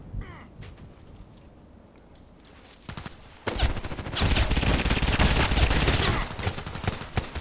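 Gunfire in a shooter video game played with an EBR marksman rifle: a few scattered shots, then from mid-clip a dense, loud burst of rapid automatic fire that continues steadily, with no talking.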